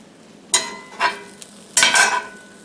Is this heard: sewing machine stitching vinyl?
no